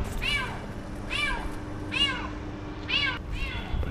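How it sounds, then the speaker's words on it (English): A cat meows loudly somewhere behind a house: four drawn-out, wavering calls spaced about a second apart over a steady background hum, with no talking. "It's gotta be a cat."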